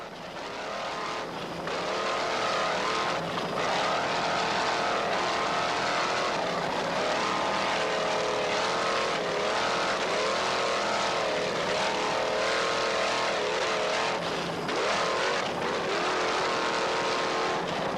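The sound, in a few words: offshore powerboat motor running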